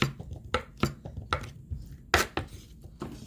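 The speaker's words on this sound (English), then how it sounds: "So I'm just finely chopping these up" A knife chops tomatoes finely on a cutting board for guacamole, giving a steady run of sharp, close, fairly loud chops with uneven spacing and no talk.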